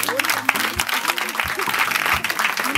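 A church congregation at a healing service in Côte d'Ivoire breaks into applause and cheering, a dense, close clatter of clapping with a speaking voice carrying over it throughout.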